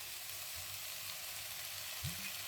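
Oil heating in a pan for Moroccan Ramadan cooking, a steady faint broadband hiss with low rumbling underneath and a brief thump near the end, no voices.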